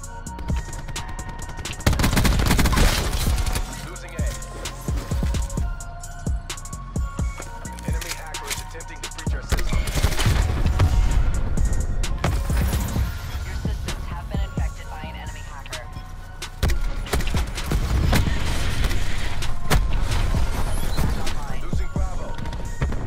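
VKM rifle gunfire in Black Ops 4 multiplayer Domination, with repeated rapid automatic bursts and clattering shots in clusters, loud and close, mixed with other game sounds and a player talking at times.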